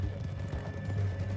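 In the video game Red Dead Redemption 2, a horse's hooves clip-clop at a steady walking rhythm, soft and even, under a low ambient hum, with no talking.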